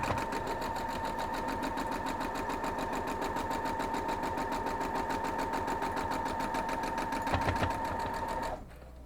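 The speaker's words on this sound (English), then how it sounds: "So now we're just going to sew this up." A sewing machine stitching quilt block pieces for a Double X block, running continuously at an even, rapid pace for several seconds, close and prominent, before stopping near the end.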